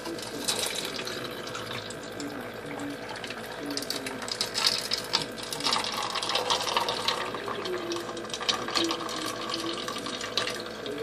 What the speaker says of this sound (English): a fantastic water fountain cups trick